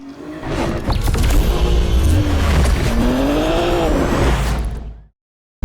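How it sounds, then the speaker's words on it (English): A tuned blue Toyota A90 Supra is pushed along the Tail of the Dragon mountain road, its engine loud and close with rising and falling revs and tire noise as it works through the corners. "We are here at the tail of the dragon reviewing an A90 Supra."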